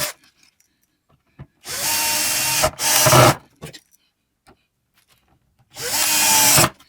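A power drill driving extra screws into a kitchen cabinet hinge during a repair, in three loud whirring bursts of about a second each separated by silence and small clicks.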